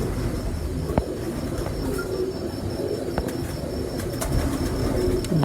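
Champion breeder pigeons coo softly in low, rolling murmurs, with a few sharp knocks and faint background noise throughout.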